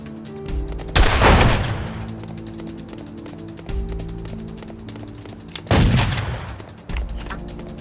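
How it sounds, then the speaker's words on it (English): Sniper gunfire from the PS2 video game Made Man: two heavy, booming shots several seconds apart, each with a long decaying roll, over a low steady background rumble. "Snipers, commence fire!"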